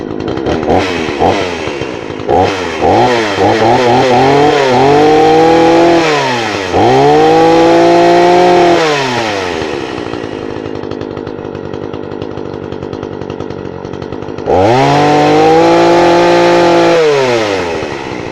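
A small chainsaw used as a trim saw revs up and down in loud, close bursts with sweeping pitch, idles between runs, then revs again near the end.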